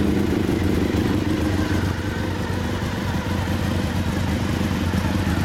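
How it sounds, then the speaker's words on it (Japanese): A 1997 Suzuki TL1000S V-twin motorcycle with a Yoshimura exhaust runs at a steady, loud, close idle with a rumbling, uneven throb and no speech. "吉村の音聞かせてもらえる？ 2台とも V 型エンジンになるな。"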